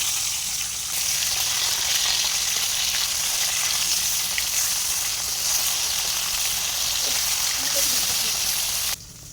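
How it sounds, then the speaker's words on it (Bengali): Fish frying in hot oil in a wok, a steady broadband sizzle running continuously at close range, cutting off abruptly near the end. "তো আমি এখানে এই কড়াইয়ের ভিতরে মাছ দিয়ে দিব।"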